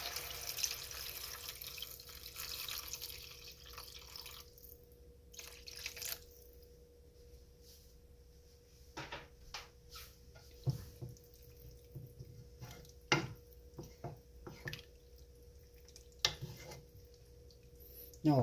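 Water poured into a cooking pot of kimchi stew, a soft steady splashing and trickle that gives way to scattered drips and light clinks, close and quiet in a home kitchen.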